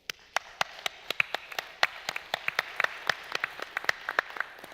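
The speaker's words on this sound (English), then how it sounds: "I think you deserve a big applause from all of us." An audience at a gas and oil panel event applauds with sharp, uneven claps ringing out close and fairly loud, with no talk over them.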